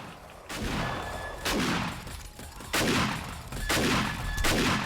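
Base turrets fire in repeated heavy bursts during a 7 Days to Die horde defense of a wooden-barred mega base, each volley a loud broadband crackle of shots that decays before the next, about four bursts in quick succession.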